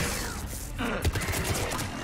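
Missile launches in a Mass Effect 3 battle on Thessia, a loud rushing burst followed by a rapid string of booming impacts and thuds.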